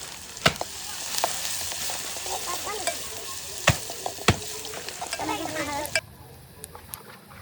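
Mustard and cumin seeds sizzling and crackling in hot oil in a pan over a wood-fired stove, sharp pops scattered throughout, close and continuous, ending abruptly into near quiet.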